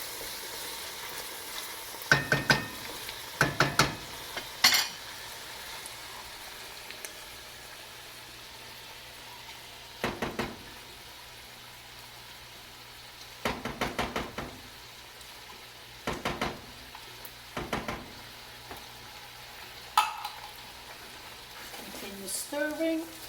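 Sunday tomato sauce being stirred in a pan, with repeated bursts of spoon scraping and clinking against the pan over a low background sizzle, in separate clusters with pauses between.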